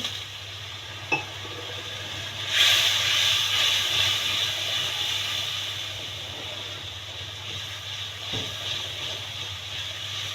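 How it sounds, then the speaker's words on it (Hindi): Turmeric, coriander, chili and salt masala roast with a little water for a drumstick curry, giving a steady bubbling sizzle and hiss that swells after a short clatter and holds on at moderate volume. "तो मसाले को भूनेंगे अच्छी तरह से"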